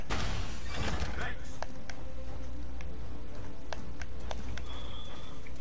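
Horse hooves pound steadily in a video game, a fairly loud clip-clop of repeated hoofbeats running under continuous background game noise while players talk over it.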